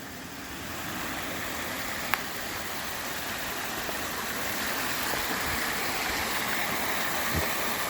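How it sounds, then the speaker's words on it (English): Water flowing out of an overflow pipe, a constant moderate rushing and gurgling that stays even throughout, with a faint click partway in. "There's the water that's coming out of it."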